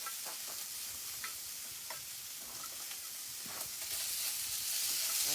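Onions sizzle steadily in a preheated pot for Cajun-style greens, a continuous bright frying hiss with occasional faint stirring clicks, growing slightly louder toward the end, no voices.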